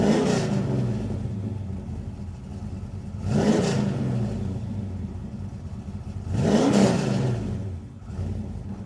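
A restomod 1994 GMC OBS truck drives off, its engine revving up in two distinct swells over a steady, close rumble, with no talk.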